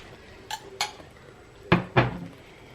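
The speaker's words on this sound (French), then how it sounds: "Et je mélange" Cooked pasta mixed with a spoonful of crème fraîche in a pot, with a few distinct metallic clinks of a spoon against the pan, two lighter then two louder, no speech.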